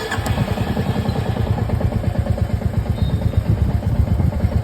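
A Royal Enfield Meteor motorcycle engine idles with a steady low, rhythmic thumping and mechanical clatter, close and even throughout.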